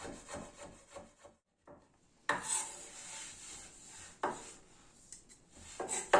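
A knife chops sausage finely on a wooden board, giving a run of quiet, scraping and tapping cuts with brief pauses in between and no voices.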